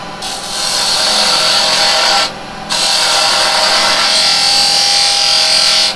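A spindle gouge cutting wood on a lathe, a continuous close, loud shearing hiss with a brief pause mid-way before the cut resumes, alone without talk.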